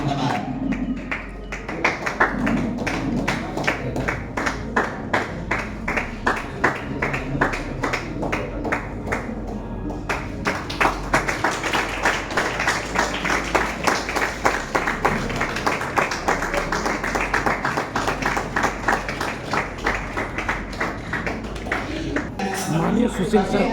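An audience at a tribute gathering claps in a steady, rapid rhythm that continues throughout, fairly loud and close, while a voice speaks over the clapping.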